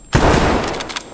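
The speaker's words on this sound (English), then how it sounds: "Why are you shooting at us?" Gunfire in the Escape from Tarkov video game, a single loud close blast whose sharp onset is followed by a dense, sustained rumble of echo and rattle.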